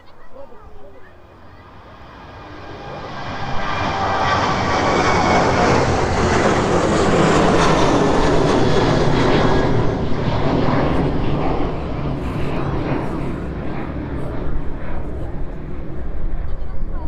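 A passenger jet airliner on the Lanzarote service at East Midlands Airport approaches, its engine roar swelling from a faint rush into a loud, sustained broad roar that holds steady to the end.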